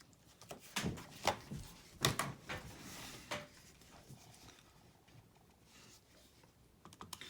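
Fingers tap out numbers on a calculator's keys in a quick uneven series of close, light clicks that thin out toward the end, with no voices.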